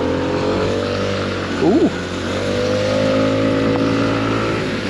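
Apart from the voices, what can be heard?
Lexmoto XDV125 scooter engine accelerating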